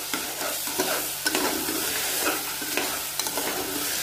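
Spices, cloves, cinnamon, cardamom, almonds and raisins are stirred in a pan, sizzling steadily with scraping spoon strokes close up and no talk, for a quick rice dish.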